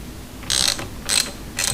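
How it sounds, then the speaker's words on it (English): A wrench works the bleeder valve on a vintage Honda motorcycle brake caliper. Three short, bright ratcheting clicks come up close, evenly spaced about half a second apart. "Now I'm going to open up the bleeder valve"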